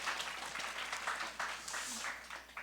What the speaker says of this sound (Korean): 박수 치켜주기 바랍니다.